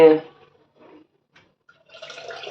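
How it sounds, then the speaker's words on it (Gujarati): After a short voice and quiet pause, a glass of water starts pouring into a vessel of churned cream for buttermilk, with a soft, steady splashing rush. "આમાં એક ગ્લાસ પાણી આપણે નાખ્યું"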